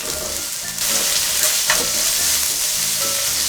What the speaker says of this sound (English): Once your onions get a little soft and a little see through, add your sausage.